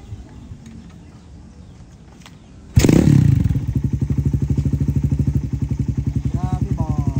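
A Raider 150 motorcycle engine fires up after carburetor tuning, starting with a sudden loud burst, then settling into a fast, even, throbbing idle close by. Faint background sounds come before the start.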